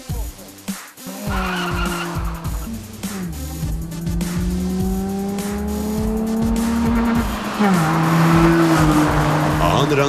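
A BMW 318 and a BMW Z3, both with 1.8-litre engines, drag race at a 2014 event: loud engines climb in pitch through the gears while tires squeal long and hard, close by, with a commentator's voice under the noise.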